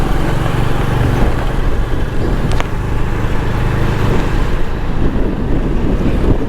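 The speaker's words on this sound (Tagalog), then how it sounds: "Lakas yung hangin ngayon mga boss." Strong wind roars continuously across the microphone near open water, a heavy, unbroken rumble with a low boat-engine drone underneath and faint waves mixed in.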